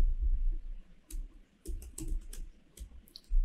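Keystrokes on a computer keyboard while JavaScript code is typed, coming as a handful of quick, light clicks in short irregular bursts with brief pauses, close and fairly quiet.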